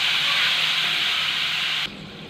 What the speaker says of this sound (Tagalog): Ayan po, magigisa na po ako.